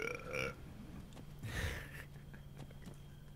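A short, low burp sounds in the middle of the clip over soft video-game background noise, with a brief voiced sound at the start.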